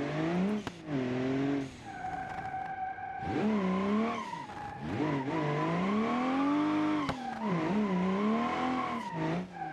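In the BeamNG driving game, a drift car's tires squeal and skid in long, wavering screeches over a loud engine, with repeated slides and short breaks across the run.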